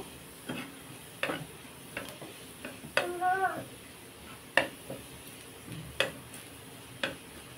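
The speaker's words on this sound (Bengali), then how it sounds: "গ্যাসের ফ্লেমটাকে লোতে করে আমি রসুনটা ভেজে নেব" Garlic fries gently in oil over a low gas flame, a soft sizzle beneath irregular spoon-on-pan stirring clicks and scrapes, one brief squeaky scrape standing out.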